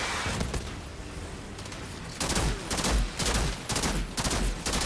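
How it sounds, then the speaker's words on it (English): Bursts of gunfire in the shooter game Outriders: scattered shots at first, then louder, heavier volleys in distinct pulses from the midpoint on, close and sharp, with no voices. "Stop shooting me, sniper"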